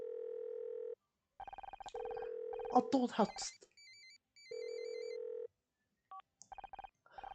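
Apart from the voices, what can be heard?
phone ringing in Murder by Numbers video game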